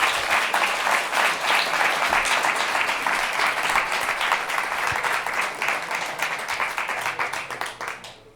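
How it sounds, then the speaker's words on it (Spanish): An audience at a software talk bursts into sustained applause, dense clapping from many hands that holds steady and then tapers off toward the end. "Vamos a darle un aplauso, que yo creo que se lo ganó la ronda de preguntas."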